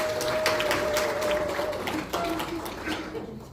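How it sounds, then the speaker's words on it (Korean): Audience applause at a citizens' lecture event, a steady wash of clapping from a seated crowd lasting the whole stretch, with a faint sustained tone running beneath it. "큰 박수 부탁드립니다"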